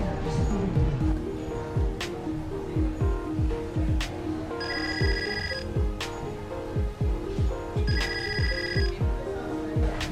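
A telephone rings in two repeated electronic bursts amid a drama scene, steady tones cutting through background music and faint voices.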